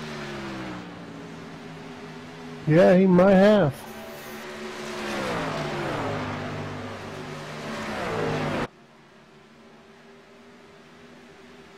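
Race trucks running on a track, engines droning and revving with a louder rising whine midway, all beneath commentators talking, before cutting to a quieter hum.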